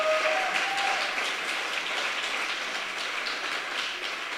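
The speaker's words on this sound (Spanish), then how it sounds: "Si ese aplauso es para Jesús, dalo con ganas." A church congregation claps during a sermon on grace, a dense, even wash of many hands applauding at a steady level throughout, with no voices over it.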